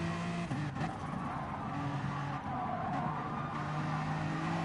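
Race car engines roar steadily in Gran Turismo Sport during a BTCC-style race at Catalunya, a continuous dense engine drone with shifting pitch and hints of tyre noise, loud and unbroken throughout.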